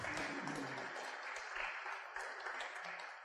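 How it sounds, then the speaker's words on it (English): Audience applause for a panelist at the Objective-Cologne 2012 conference, a dense, steady wash of clapping held at moderate level for a few seconds before easing slightly at the end. "Give him a round of applause."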